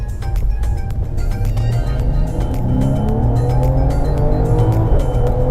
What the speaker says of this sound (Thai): สำหรับอัตราเร่งของ Mercedes-Benz นะครับ